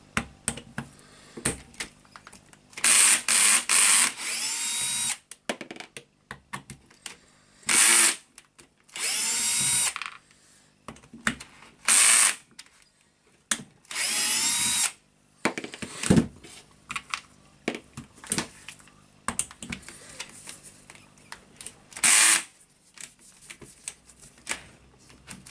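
A drill on the controller unit of a Hilti TE1000 AVR demolition hammer runs under load in repeated loud bursts of several seconds each, separated by short pauses, with no talking.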